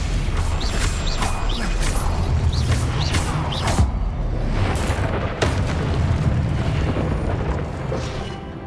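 Spell blasts in Hogwarts Legacy combat make a continuous loud barrage of booms, crashes and crackling impacts. Bursts land in quick succession over a constant rumbling bed.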